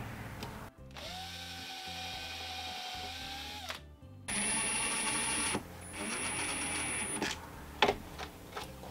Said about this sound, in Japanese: 下穴を先に開けておいて